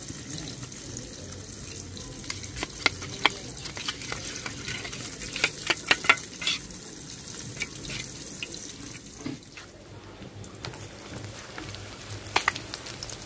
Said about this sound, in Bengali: মাছ ভাজা হয়ে গেছে, তুলে নিন।